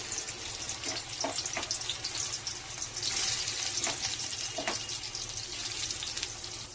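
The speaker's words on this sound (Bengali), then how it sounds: "এবার আমি সয়াবিনগুলো তেলের মধ্যে দিয়ে দিলাম।" Soya chunks dropped into hot oil in a wok, giving a steady loud hiss and sizzle with a brief surge of crackling partway through.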